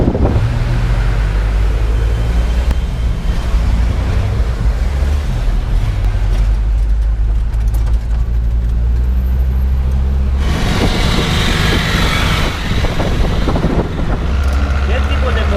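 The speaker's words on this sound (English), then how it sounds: "You hear that clackety clack clack? That's the sound of a diesel." A Mercedes-Benz diesel car engine on a street in Havana, Cuba, runs with a steady low clattering idle. Wind noise and surf-like rushing partly mask it, and a louder rushing passage comes near the end.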